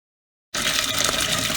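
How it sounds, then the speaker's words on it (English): Warm tap water gushes loudly into buckets, starting abruptly after a brief silence and then running as a steady, full rush of splashing water close by. "first I'm going to fill the buckets with clean water"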